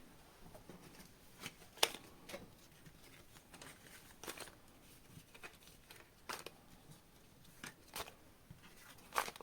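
Quiet, close card shuffling: soft riffling bursts and snaps recur every second or two, with hushed rustling between them.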